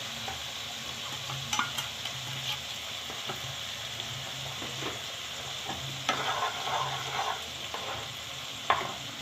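Spice paste with ground pepper is sautéed in a pan, giving a soft steady sizzle under repeated spatula stirs and scrapes, with sharper clinks now and then and no voices.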